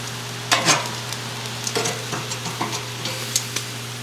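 Venison slow-cooks over heat, sizzling steadily while pieces are shifted around, with a few close scraping and clinking touches rising above the constant fry.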